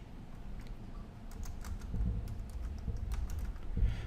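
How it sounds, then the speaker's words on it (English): Quick, close keystrokes on a computer keyboard, a short run of typing as a username and password are entered, with soft clicks and a few louder taps. "So we type in the username, type in the password."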